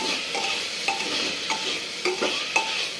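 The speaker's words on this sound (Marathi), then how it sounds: "हळदला सुद्धा त्या भाज्यांबरोबर परतून घ्यायचं." Mixed vegetables with turmeric sautéing in a pan for veg pulao, a steady close sizzle punctuated by repeated light scraping and clinks of a spoon stirring, no one talking.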